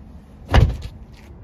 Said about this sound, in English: the spare tire can be swung outside easily with the two swing nuts